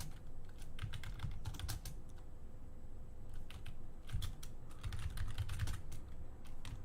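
Close, quiet clicking of fingers typing on a computer keyboard, in irregular bursts of quick keystrokes with short pauses, no talking.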